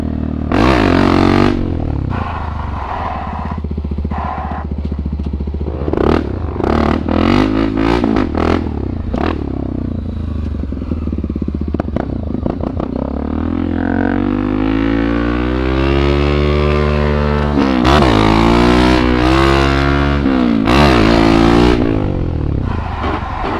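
Motorcycle popping a wheelie with its rear fender dragging and scraping along the pavement, engine revving loudly and continuously with rising and falling pitch and harsh grinding bursts, no talking.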